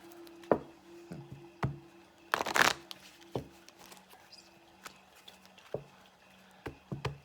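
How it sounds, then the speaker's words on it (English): Cards are riffled and shuffled in a quiet room: scattered soft taps and clicks, then one dense fluttering riffle burst, followed by more light handling sounds. "2 more shuffles and I will cut this deck."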